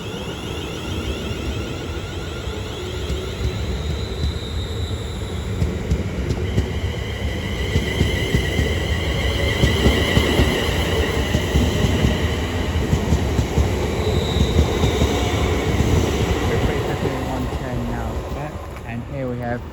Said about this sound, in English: here we have 390-126 leading in the slightly delayed 12:27 Avanti West Coast